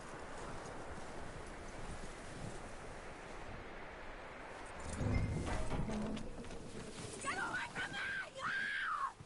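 Horse hooves clopping in Red Dead Redemption 2 over a windy mountain ambience, steady and fairly close, with a voice and a horse whinny toward the end.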